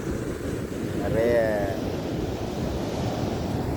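Ocean waves wash onto the shore at Sangu Thurai beach in a continuous roar that swells briefly, with wind buffeting the microphone and faint indistinct voices in the distance.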